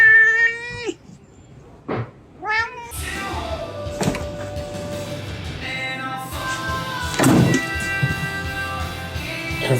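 A hungry house cat meows loudly and insistently at close range, a few drawn-out, wavering cries at the start before rustling and clattering household noises take over.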